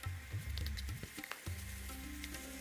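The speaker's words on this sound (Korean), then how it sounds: "그리고 양파 썰어 놓은 것도 넣겠습니다. 달달 볶아줍니다." Sliced onions stir-fry in sesame oil in a pan, a dense close sizzle with crackling patter and the soft scrape of stirring.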